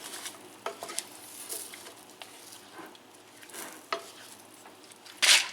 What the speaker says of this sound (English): I'm going to stir this all together